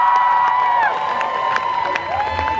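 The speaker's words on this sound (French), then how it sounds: "je vous demande d'applaudir et d'accueillir Anchela." Audience at a Made in Asia 2019 convention stage event cheering and applauding, a loud crowd roar with whoops and clapping under a steady high tone over a couple of seconds.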